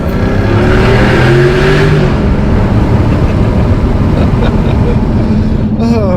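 A 2021 Jaguar F-Type R Heritage 60 Edition, exhaust set to loud mode, roars close and very loud, its engine note climbing as it revs and accelerates, with a voice partly audible beneath.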